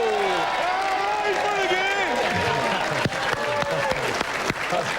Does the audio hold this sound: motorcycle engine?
no